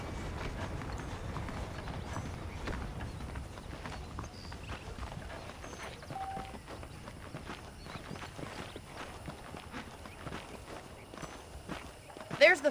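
Horse hooves clip-clop steadily at a walk in the Red Dead Redemption western video game, moderately close, sitting under game voices and background music, with a louder burst of movement right at the end.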